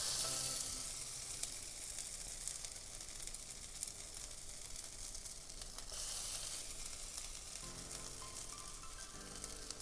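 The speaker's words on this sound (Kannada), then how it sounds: "ಸ್ವಲ್ಪ ಆಯಿಲ್ ಹಾಕೋತೀನಿ. ಈಗ ಫ್ರೈ ಮಾಡೋಕ್ಕೆ ಬಿಡೋಣ." Soya chunk kebabs fry in oil, a steady, dense sizzle that holds at an even level throughout, close and with no voices.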